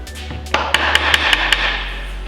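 Six sharp hammer taps on wood in a quick, steady rhythm, close and loud over a low background hum, as a clamped shelf piece is tapped into place.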